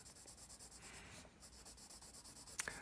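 A pencil shades on paper with medium pressure, quiet rhythmic scratchy strokes back and forth, close and soft, with a brief pause partway.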